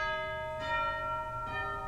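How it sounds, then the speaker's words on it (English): The chimes stop of a 1933 Möller pipe organ at St. Clement's Episcopal Church in Philadelphia rings out two bell-like strikes about a second apart, each followed by a long, clear, sustained ring with rich overtones. "And there's a set of chimes in here as well,"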